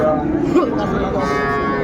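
Cows and calves at a busy cattle market, with a nearby moo rising over crowd murmur and people talking throughout.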